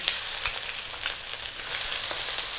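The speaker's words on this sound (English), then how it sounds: "We're now going to drop in the onion." Steady frying hiss of onions in hot oil over fairly high heat, a continuous crackle with scattered small pops, fairly loud and close.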